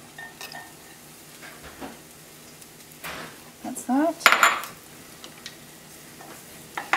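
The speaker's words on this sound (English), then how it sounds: "here's the finely chopped garlic, and what we'll do is we'll add this to some sizzling oil" Finely chopped garlic goes into hot oil in a pan with a soft sizzle, broken by clinks and scrapes of a utensil against the cookware, close by, with brief talk.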